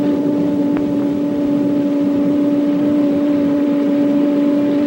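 A wind tunnel fan drones loudly and steadily with strong tonal hum, building toward 100 mph wind speed, with no talking.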